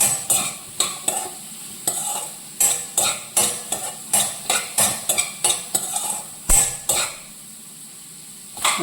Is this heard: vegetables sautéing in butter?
yes